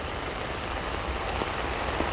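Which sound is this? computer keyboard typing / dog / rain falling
rain falling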